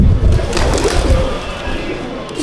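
Pigeons cooing in a rooftop loft in Metiabruz, Kolkata: low, throaty coos and soft bird murmurs repeat close by, with light rustling and background ambience.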